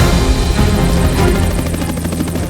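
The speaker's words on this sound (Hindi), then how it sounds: "हमले के दौरान लड़ाकू हेलीकॉप्टर राजधानी काराकास के आसमान में उड़ते नजर आ रहे हैं" US military combat helicopters fly over Caracas during an attack, a loud, close, continuous rotor thump with rapid pulsing blade chop throughout, no talk.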